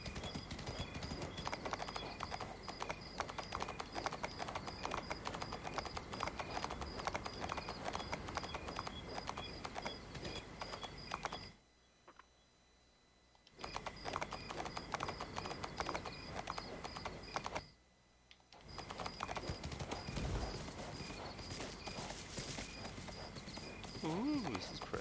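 Horse hooves clip-clopping along a road in the video game Windstorm, a steady rhythmic clatter that runs almost the whole time, breaking off twice briefly, with a person talking over it.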